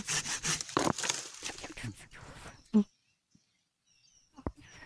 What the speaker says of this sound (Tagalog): pumuputol naglalagari yan